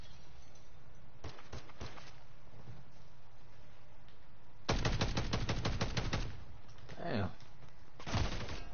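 Rapid bursts of battle rifle fire in a first-person shooter video game, cracking out in quick volleys, loud and close, with several pauses between strings of shots.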